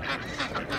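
Duck calls at a poultry market where young ducks are sold, a brief burst of nasal quacking close by against a busy background.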